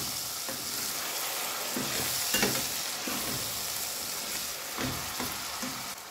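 Masala with salt and chilies sizzles as it is stir-fried in a pan for a mutton and potato curry, a steady close hiss broken by occasional scraping stirs, with no talking.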